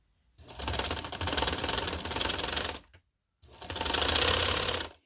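Sewing machine stitching a loose chiffon baby frock, two loud close bursts of rapid rattling needle action, about two and a half and one and a half seconds long, with a brief pause between them.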